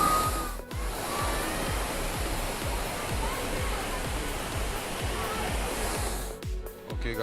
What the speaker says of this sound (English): this is the waterfall in the Karur forest